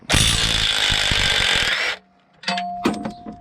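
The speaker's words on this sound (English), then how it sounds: "Usually the impact will get them out." An impact wrench hammers loose transmission bolts in a loud, continuous close burst of nearly two seconds, followed by quieter clanks of the bolt and tool being handled.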